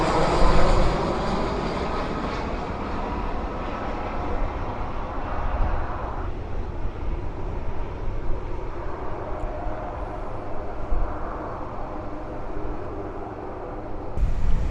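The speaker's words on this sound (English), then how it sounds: "see if we can see any aeroplanes taking off" A fixed-wing airliner takes off at Fuerteventura Airport in the Canary Islands, its jet engines producing a sustained, fairly loud distant roar that holds steady for about fifteen seconds with slight swells and no voices.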